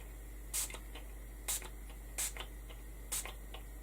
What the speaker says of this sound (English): I'm going to spritz it with the tattered leather